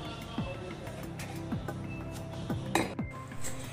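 A toy cooking pot in a child's play kitchen being covered, with a run of small metallic clinks and taps as the lid and utensils knock together over a steady background hum.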